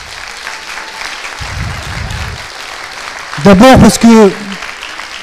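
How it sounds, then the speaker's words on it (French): An audience applauds candidates at a 2017 academic competition event in France, a steady spread of clapping running under someone speaking French up close, whose voice rises over the applause near the end. "Je voudrais qu'on les applaudisse d'abord bien fort."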